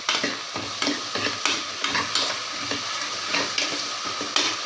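Salted vegetables sizzle steadily in a hot pan for white kurma, with repeated scraping stirs giving a soft rhythmic clatter over the continuous frying hiss.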